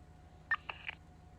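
A speed radar alert in a GTA V police roleplay gives two or three quick electronic beeps in under half a second, faint and alone against a low hum.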